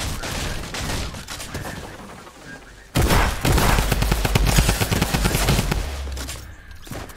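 Rapid bursts of shotgun and automatic gunfire ring out during a Fortnite match, loud and dense, growing heavier after a brief quieter opening.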